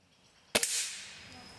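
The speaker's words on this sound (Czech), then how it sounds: "největším lákadlem pro ně byla střelba ze vzduchovek" A single sharp air rifle shot cracks close by at a children's shooting range, followed by a brief fading hiss with no voices.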